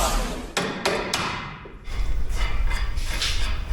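A hammer taps a suspension part into place on a 3-link suspension install: three sharp metallic hits in quick succession, close and loud, followed by steady mechanical noise.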